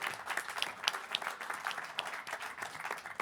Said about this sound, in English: Let's give it up for Carol